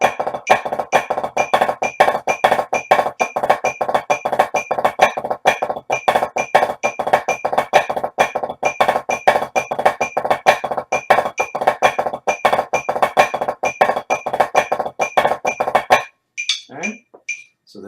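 A marching percussion drum plays a fast, continuous flam drag rudiment, with dense sharp strokes in a steady pattern, close and crisp, before stopping abruptly.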